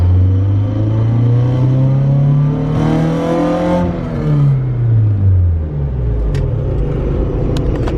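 A Honda Civic with a Type R engine swap revs wide open on a dyno, its engine pitch climbing steadily and loudly, then dropping away as the throttle closes, leaving a low idle rumble with a few faint clicks.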